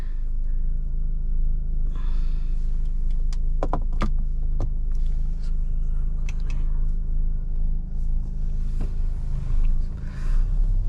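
A 2022 Mahindra XUV700 petrol automatic moves off with a steady low engine rumble heard from inside the cabin, while a few sharp clicks and soft cabin noises break through. No one speaks.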